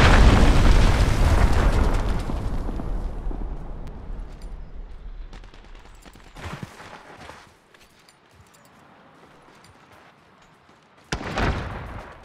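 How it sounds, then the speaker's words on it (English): A heavy enemy cruise missile strike in a Call of Duty Modern Warfare Domination match: a loud, deep boom rolls out and slowly decays over several seconds, followed by quieter battlefield rumble, a short burst mid-way and another sharp blast near the end. "Enemy cruise missile incoming!"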